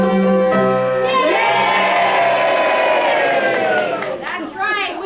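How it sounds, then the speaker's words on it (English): An audience at a stage play cheers and whoops for the hero, a loud sustained crowd roar with shouts and some applause, swelling then briefly dipping before rising again. "We want a good cheer for that hero."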